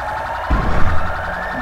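An ambulance siren wails in the GTA 5 game world as a sheriff patrols through a sandstorm, a steady rising electronic tone with a low thump partway through.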